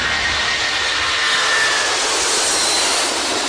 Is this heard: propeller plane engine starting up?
yes